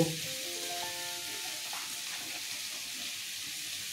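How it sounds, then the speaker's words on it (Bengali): Potatoes sizzle steadily in a pan of hot oil with a little salt added, a continuous close crackling hiss that holds even after a brief clatter at the start. "আলুটা ভাজা হচ্ছে।"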